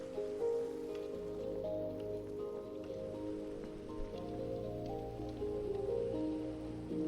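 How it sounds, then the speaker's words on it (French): Rain falling at night in the video game Minecraft, a soft, even patter that continues throughout without a break, over a faint low ambient backdrop. "Tellement il y a la pluie"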